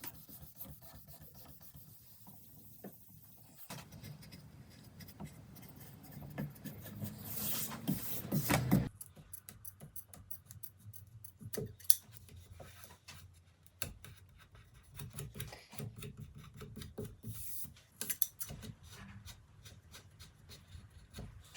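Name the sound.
cutting a cricket bat scuff sheet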